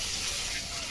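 Cumin seeds sizzling in hot mustard oil in a wok, a steady bright hiss filling the short moment with no break.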